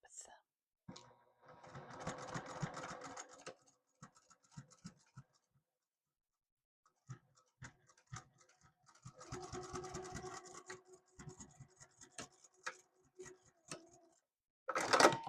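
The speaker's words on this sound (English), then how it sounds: "I'm going to stitch right across that to give this little pouch some depth" A sewing machine stitches across the corner seam of a small fabric pouch in two steady whirring runs separated by a pause, with soft handling noises between and a low voice nearby.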